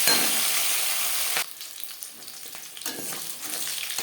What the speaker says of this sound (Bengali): মাছ ভেজে নেব একটা সাইজ ভাজা হয়ে গেলে অপর সাইজটা উঠে দেবো